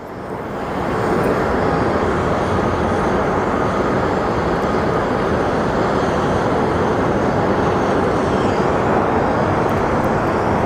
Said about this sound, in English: So our Air Canada Dreamliner is on final